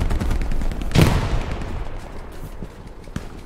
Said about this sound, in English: we have friendlies up front that are shooting at people